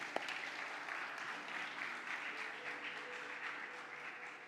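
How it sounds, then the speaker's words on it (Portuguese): A church audience applauds steadily for several seconds, a dense even clatter of many hands clapping at moderate volume, with a faint murmur of voices underneath. "Vamos aplaudir o Gabriel que fez essa árvore ali."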